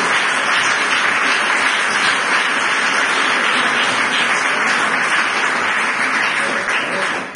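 A church congregation at a morning service applauds for Jesus Christ. Many hands clap loudly in a thick, unbroken roar that holds steady for about seven seconds and eases only at the very end.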